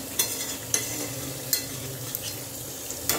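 Meat and potatoes being sautéed in a pan, giving a soft steady sizzle with occasional sharp clinks of a spoon against the pan, fairly quiet and close.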